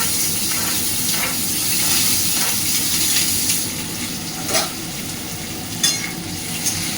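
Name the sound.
mustard seeds, curry leaves and green chilli frying in pan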